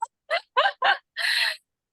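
Someone imitates birds chirping, voicing four short bright chirps and then one longer whistled note, close and clear against silence.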